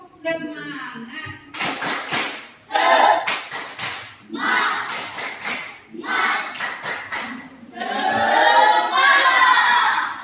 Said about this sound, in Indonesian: Untuk itu kita mulai dengan tepuk semangat.